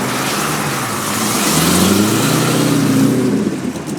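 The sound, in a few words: race car engine revving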